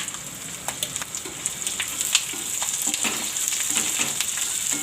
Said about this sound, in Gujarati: તેલ ગરમ થઈ ગયું છે તો આમાં જીરું નાખી દેવું અને લસણ અને આ સિંગને આપણે આ બધું નાખી દેવું આમાં